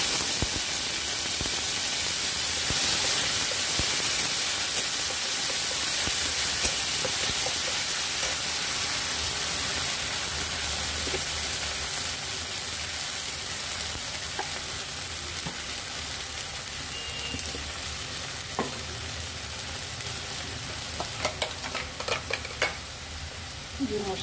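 Banana stem paste frying with nigella seeds and dried chili in a pan, a steady loud sizzle and hiss running throughout, with a few scraping stirs and crackles near the end.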